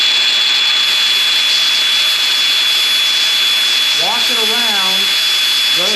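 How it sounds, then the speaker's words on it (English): A bench grinder tapers the end of a hand-spun metal rod with a continuous loud, hissing whine, and a voice speaks briefly over it near the end. "An easy way to do this is take your grinder, hold it on the bench,"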